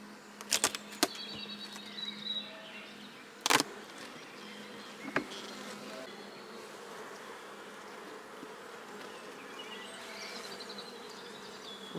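Honeybees hum in a steady, close drone from an open hive super, with a few sharp clicks and knocks of equipment scattered throughout and no talking.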